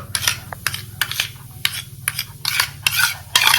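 A spoon stirs a baking soda and lemon juice mixture in a small container, giving repeated scraping, clinking strokes at a steady rhythm, close and fairly loud, with no talking.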